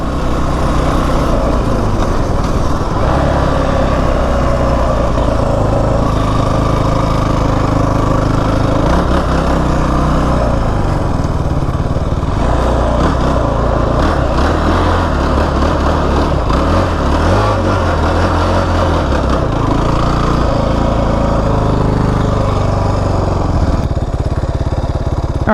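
Kawasaki KFX 450R ATV engine on a trail ride, a loud continuous single-cylinder rumble rising and falling with throttle, up close and alone.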